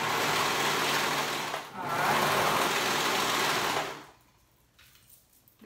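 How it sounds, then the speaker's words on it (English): A sewing machine stitches sleeves onto the raw edge of a homemade top. It runs as a loud, steady whir, dips briefly, then runs on and stops, leaving near quiet. "I'm gonna sew the sleeves on there."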